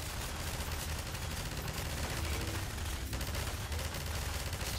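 Steady gunfire and combat noise from the video game Half-Life 2, fairly faint and continuous, with no talking.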